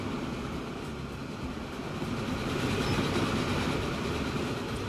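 4-8-8-4 Big Boy steam locomotive hauling an oil train in Transport Fever, a continuous loud rumbling roll with rail clatter that swells slightly as it passes, with no talk over it.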